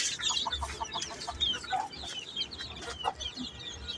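Hens and baby chicks on a small poultry setup cluck and peep continuously in soft, overlapping calls, moderately distant against steady low background noise.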